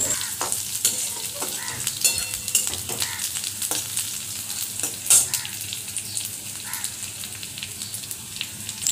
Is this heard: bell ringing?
no